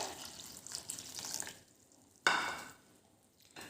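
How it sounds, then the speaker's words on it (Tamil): Coconut milk poured onto flattened rice (aval) for a no-cook coconut aval payasam: a soft, liquid splashing pour that gives way to a quieter trickle, then a sharper splash partway through. "அதில் வந்து தேவைக்கு தேங்காய் பால் விட்டுக்குவோங்க."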